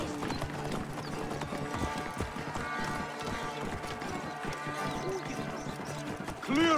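Rhythmic clip-clop of video game horse hooves at a steady trot in Assassin's Creed Origins, with a horse whinnying near the end.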